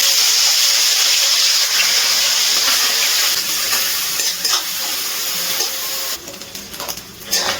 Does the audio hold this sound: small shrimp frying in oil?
yes